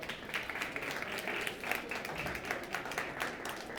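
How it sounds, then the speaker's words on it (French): Audience at a tech awards ceremony in Montreal claps for the jury members, a soft, fairly distant patter of applause continuing steadily throughout. "On les applaudit encore."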